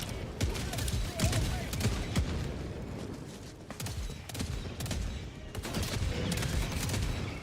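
A deployed sentry gun in Helldivers 2 fires rapid, sustained bursts amid dense battle noise, with sharp repeated cracks and a constant clatter throughout.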